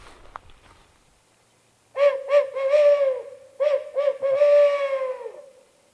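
A bird calls out at dusk on Missouri public land, a clear series of hooting notes in two bursts against a quiet background, louder than a distant call would be, with no talking.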